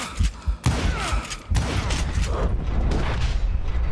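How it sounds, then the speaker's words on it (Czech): Close, heavy shotgun blasts in the Wild West shooter Call of Juarez: Gunslinger, a booming burst at the start and another at about 1.5 seconds, followed by a dense rumble of game gunfire and effects. "Tam střílí brokovci, aha."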